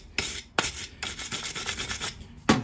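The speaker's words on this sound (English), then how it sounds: "we're just going to wire brush off threads" A wire brush scrubs the threads of a Ford Ka spark plug held in mole grips, producing close, rapid rasping strokes in quick back-and-forth bursts with sharp scratchy onsets.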